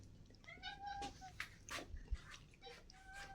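Thin, high kitten mews repeat softly against faint background rustling and light knocks, with no talking.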